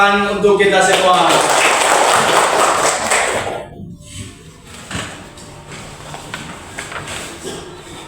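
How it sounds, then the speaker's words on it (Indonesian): A classroom group claps together in a loud burst of applause for about three seconds, then it fades into quiet room sounds. "Oke, tepuk tangan untuk kita semua."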